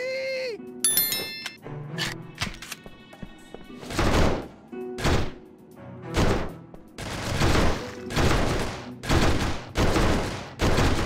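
Rapid bursts of gunfire in the video game Urban Chaos: Riot Response, loud volleys of shots repeating in clusters with metallic game sound effects.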